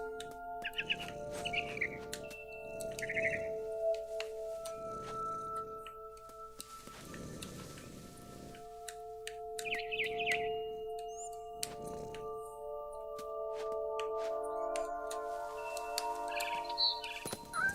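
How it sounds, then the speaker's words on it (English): Bird chirps from a barn swallow in the video game What Remains of Edith Finch, short bright calls repeating in bursts over steady tonal game music and ambience. "Then I heard chirping outside my window. It was a barn swallow going back to her nest."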